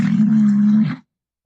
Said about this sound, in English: That's the sound of a rhino.